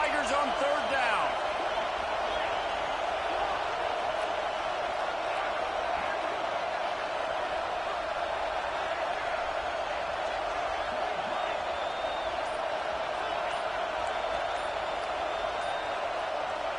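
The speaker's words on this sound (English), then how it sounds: "Beneath the shadow of Howard's Rock, Death Valley is rocking, trying to help the Tigers on third down." A large stadium crowd at Clemson's Death Valley roars continuously during an LSU vs Clemson football game, a dense, steady wall of noise from a distance lasting throughout, with no clear voices on top.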